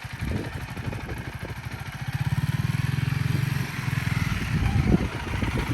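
A Honda CRF300L Rally motorcycle idles and putters nearby in a rapid, even engine pulse. Its tone shifts and steadies partway through as the bike drops down to first gear, and a few soft clunks sound near the end.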